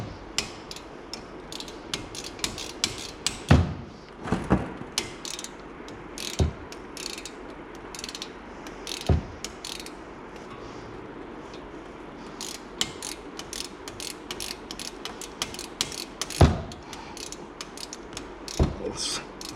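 A ratchet wrench clicks in repeated bursts while tightening brake pins on a 2015 Dart, with close, sharp metallic ticks and occasional louder clanks spread across a steady background.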